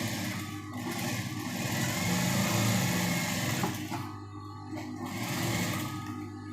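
A sewing machine stitches a blouse seam, a steady fast whirring mechanical hum that runs continuously, close and fairly loud, briefly easing and resuming near the end.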